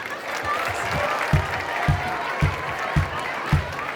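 An audience at a 69th anniversary celebration applauds loudly, a continuous roar of clapping with a regular low thump beating under it about twice a second.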